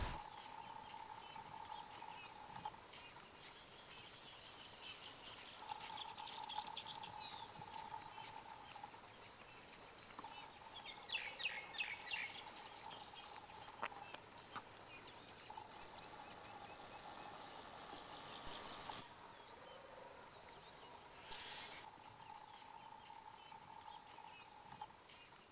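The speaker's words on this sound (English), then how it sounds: "The only sounds were birds singing." Several birds sing and chirp in the morning over a quiet beach backdrop in Madagascar, with a repeating mid-pitched call and occasional brighter trills, fairly faint and distant.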